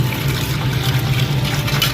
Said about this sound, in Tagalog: Siyempre, babag muna natin ng tubig.